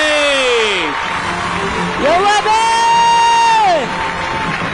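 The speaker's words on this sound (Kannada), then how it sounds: "ಜೋರ್ ಚಪ್ಪಾಳೆ ಬರಲಿ for the entertainer of the year Hanumantha" An awards show audience cheers and whoops loudly for Entertainer of the Year Hanumantha, with rising shouted voices over a continuous crowd roar.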